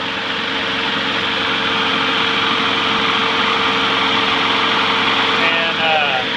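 Old free lawn mower engine, recently cleaned of grime, running steadily nearby with a constant buzzing drone; a voice talks over it.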